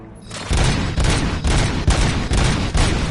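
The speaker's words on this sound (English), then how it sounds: "Gunshots? What's going on?" Sustained burst of gunfire from the video game RoboCop: Rogue City, a loud, dense fusillade of rapid shots in repeated volleys over about three seconds, with no talking.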